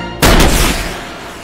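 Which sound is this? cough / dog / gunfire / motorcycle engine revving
gunfire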